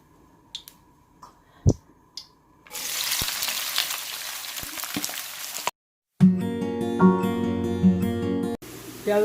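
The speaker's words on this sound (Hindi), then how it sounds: "ऑयल हमारा गर्म हो चुका है और अब हम इसमें प्याज ऐड करेंगे।" Onions hit hot oil in a kadhai for a chicken and lauki curry, setting off a loud, steady sizzle that runs for several seconds, preceded by a few light clicks and followed by a background tune.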